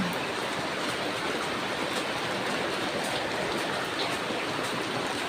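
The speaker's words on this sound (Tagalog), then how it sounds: "Grabe ang ulan dito" Heavy, steady rain pours down in a dense, continuous hiss that fills the whole clip, with no voices and no letup.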